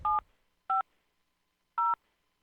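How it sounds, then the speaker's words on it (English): Three short bursts of telephone DTMF dialing tones, each a clean pair of pitches, sounding in sequence with gaps between them, loud and clear with no talking. "I bet you somebody could work out the phone number by listening to the tones."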